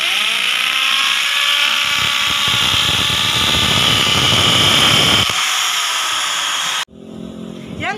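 Power tool cutting holes into bamboo for a handmade decorative lamp, a loud steady whining buzz that runs for nearly seven seconds, then cuts out abruptly, leaving only faint background noise.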